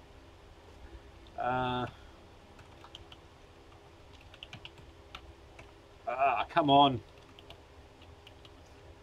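Light, scattered clicks of typing on a computer keyboard, faint and intermittent, broken by someone briefly speaking twice.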